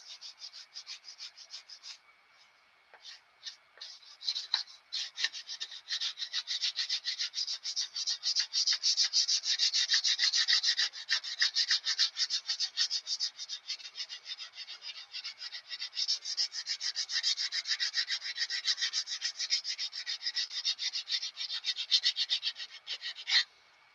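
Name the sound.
sanding carved wood with sandpaper on a dowel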